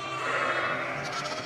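A sheep gives one sustained, close, loud bleat with a harmonic, wavering tone during sheep handling on a farm.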